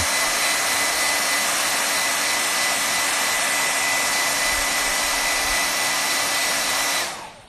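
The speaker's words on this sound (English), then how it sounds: "We'll use a hair dryer." A hair dryer blowing on red paint to dry it, a loud, steady broadband whoosh running continuously before switching off and fading at the end.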